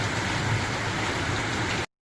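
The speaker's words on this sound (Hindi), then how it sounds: "देखिए, जोरों की बारिश हो रही है, बहुत जम के कब से हो रही है" Heavy rain after two to three hours of downpour, a dense, loud, unbroken hiss of water falling everywhere, with no voices, ending suddenly.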